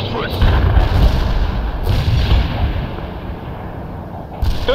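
Phosphorus artillery fire in World in Conflict, a series of deep booming thuds and rumbling impacts repeating every second or so under a dense battle mix, with voices talking over it.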